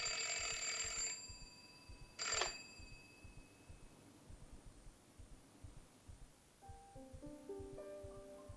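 An old-style telephone rings with two bright bell bursts, a long one then a short one, followed by fainter, tonal ringing toward the end over a quiet room.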